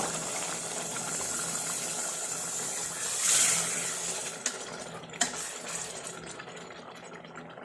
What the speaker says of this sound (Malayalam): ഇതിലേക്ക് ഇവിടെ തിളപ്പിക്കാൻ വെച്ചിരുന്ന കൂട്ട് വെള്ളം ചേർക്കുക